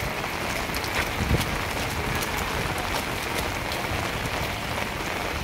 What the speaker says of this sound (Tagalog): Dahil umuulan.